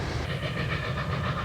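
Union Pacific 844 steam locomotive running, a loud, steady rumble with a rhythmic low chuffing pulse and broad hiss throughout, close by and with no voices.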